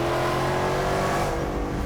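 A Jeep with a Dodge Hellcat Hemi engine revs hard, giving a loud, close, throaty roar with strong harmonic tones that climb and then ease off, with no one talking.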